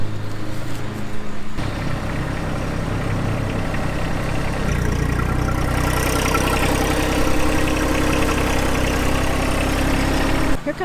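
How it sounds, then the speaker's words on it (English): A compact tractor's engine idles close by, a steady low throbbing rumble that shifts pitch slightly midway as it keeps running, with no voices over it. "Here comes neighbor Jimmy on his tractor."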